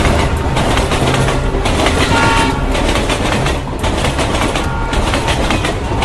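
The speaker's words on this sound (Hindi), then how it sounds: "फिर ट्रेन को स्टार्ट करके निकलता है।" Diesel train pulling away and gathering speed, a loud steady rumble of engine and rolling wagons with faint clatter, no voices.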